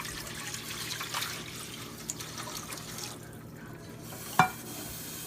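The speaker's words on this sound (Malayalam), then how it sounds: "4 ഗ്ലാസ് വാട്ടർ വിട്ടിട്ട് വേണം ഇതാക്കത്തേക്ക്." Water poured into a pan for vermicelli upma, a soft steady trickle and splash close by, ending with a sharp clink of the vessel.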